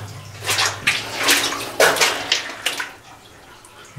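Spring water splashes and gurgles steadily nearby inside a mine tunnel, with irregular louder surges like a running stream, with no voices.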